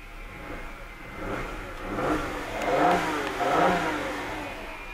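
A 2008 Volkswagen Passat engine revs up in a few rising surges over a steady running rumble, close by, with no talking.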